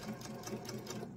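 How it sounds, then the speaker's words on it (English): A sewing machine stitching around the edges of a fabric eyeglasses case, producing a brief, steady, rapid chatter of needle strokes, close and fairly loud, with no talking. "we're going to sew all the way around."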